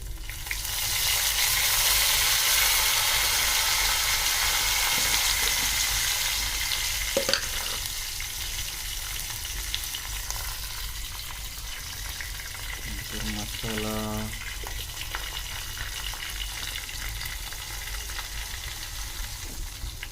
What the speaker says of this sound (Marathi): लसूण फोडणी देऊन त्याच्यामध्ये कढीपत्ता टाकायचा आहे